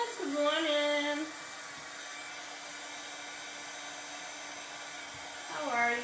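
Steady, loud whine of a hair dryer blowing on a craft project, a Mason jar cutout, holding a constant tone for several seconds, with pitch swoops as it starts and stops.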